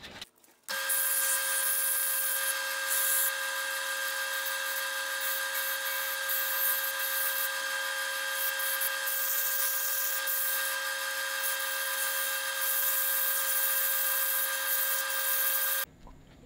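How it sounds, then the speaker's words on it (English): A bottle opener being sanded with 60 grit sandpaper on a power tool, a constant high whining drone that starts abruptly, holds for about fifteen seconds and then cuts off. "Going in with the 60 grit."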